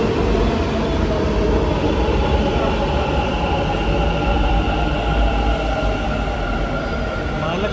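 A metro train pulls into a busy station on a Saturday, with a loud, steady rumble and rolling rail noise, a faint rising whine near the end, and a crowd murmuring underneath.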